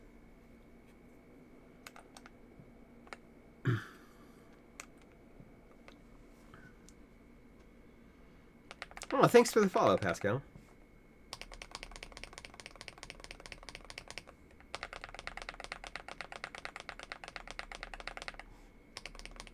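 A mechanical keyboard with Geon Raw switches is typed on, with bursts of quick, close clacky keystrokes following a brief louder rattle, and a short spoken aside early on.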